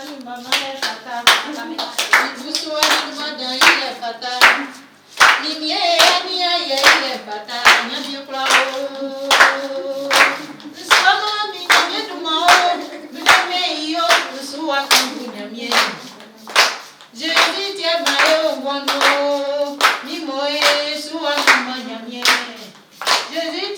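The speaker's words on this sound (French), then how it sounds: "On applaudit Madame Guesson qui reprend ça." A crowd at a show claps in rhythmic bursts under loud sung or chanted voices, with sharp hand claps repeating steadily throughout.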